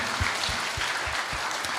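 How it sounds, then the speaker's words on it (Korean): A church youth congregation gives a brief round of applause in encouragement, with dense steady clapping filling the room throughout. "함께 우리 격려의 박수 올려드리도록 하겠습니다"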